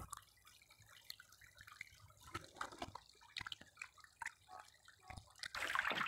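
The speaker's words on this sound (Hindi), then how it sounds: "आप लोग ने इस तरह पानी से भरना है क्यारी को" Water trickles and drips into a garden seedling bed outdoors, a soft, steady liquid patter with scattered splashes, growing louder and fuller toward the end.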